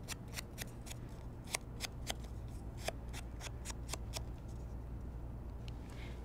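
Close, repeated brushy scuffs as a small Stampin' Sponge loaded with Peekaboo Peach ink is swiped around the edge of a paper card layer, over a low steady hum, with no talking.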